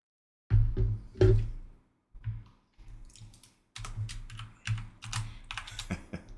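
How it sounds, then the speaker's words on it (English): Several people tap on computer keyboards in loud, close bursts of keystrokes broken by brief pauses, the clicking clustered and uneven, with no talking. "Some people are typing."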